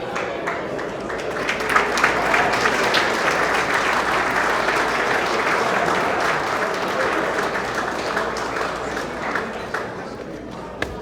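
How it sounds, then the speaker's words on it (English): Audience at an annual Hellenic awards ceremony gives a warm, dense round of applause that carries on steadily for several seconds. Faint voices mingle with the clapping. "A round of applause for Pan-Gregorian for all that they do"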